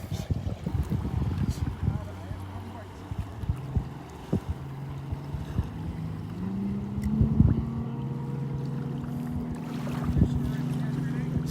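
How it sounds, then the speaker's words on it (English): A commercial boat's engine drones past a beach at Delnor-Wiggins, rising in pitch and loudness as it speeds by, with wind buffeting the microphone and bursts of nearby noise. "Commercial boat."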